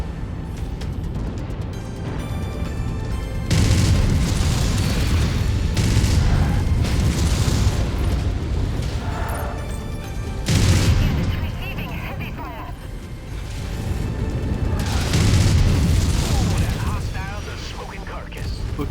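Artillery bombardment in the mech combat game MechWarrior 5: Mercenaries: heavy booming blasts swell in three loud waves over a continuous rumbling mechanical background, each surge rolling and sustained for a few seconds.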